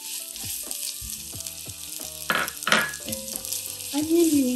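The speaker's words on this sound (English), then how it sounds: "So now I am adding onion." Chopped onion hits hot oil in a pot while shrimp fried rice is being made, with sharp sizzling bursts over steady frying, light utensil clinks, and a voice speaking intermittently.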